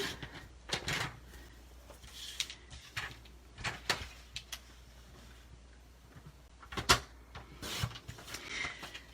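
A paper trimmer's guard is lowered into place with a few sharp, close clicks and taps spread over quiet room tone, no voices.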